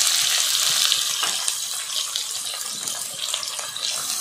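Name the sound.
chopped onion sautéing with cumin and curry leaves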